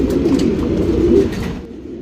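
A male blue-shade Tara pigeon with a round head, medium beak and single tail gives low, repeated cooing at close range, which fades out near the end.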